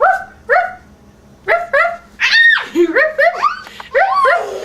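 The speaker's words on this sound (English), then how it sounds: "He's a dog." A dog barks and yips in quick, loud bursts close by, irregular and spaced by short pauses, growing busier toward the end.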